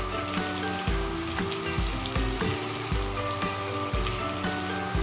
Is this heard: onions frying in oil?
yes